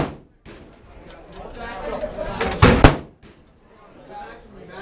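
Single AK rifle shot fired outdoors at a shooting range, a sharp close blast with a brief ringing tail amid low background chatter.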